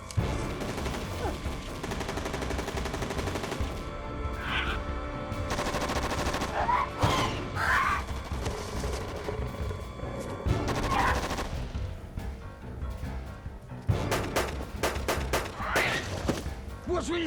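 Gunfire in the video game Jurassic Attack: bursts of rapid shots and thuds, close and loud, broken by short gaps, with voices calling out between volleys.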